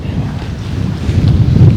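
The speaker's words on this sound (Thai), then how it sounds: "ลมแห้ง ลมแรง ขึ้นแรงครับ" Strong wind gusts across open water at a calm natural fishing spot where tilapia are being caught with a lift net, a steady loud roar buffeting the microphone with no talk.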